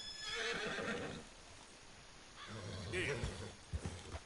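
A horse whinnies twice in Red Dead Redemption 2 on snowy ground, shrill neighs near the start and again midway, with hoof clops and a speaking voice mixed in at a moderate level.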